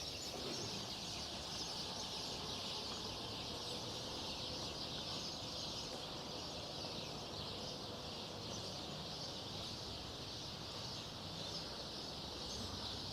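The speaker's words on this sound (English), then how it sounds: "you can hear the birds are waking up in the trees" Birds call and cluck in the trees at dawn along the seafront of Puerto del Carmen, a faint, continuous chorus with rooster-like clucking against a steady background hiss.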